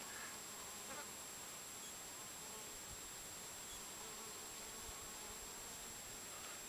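Honey bees buzz around water in the wild, a faint, steady insect hum that runs continuously beneath low outdoor background noise.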